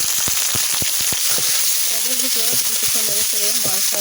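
Onion and spices frying in a pan on low heat, cooked in a pigeon meat curry: a continuous hiss of sizzling with scattered stirring scrapes and taps. A voice talks over the second half.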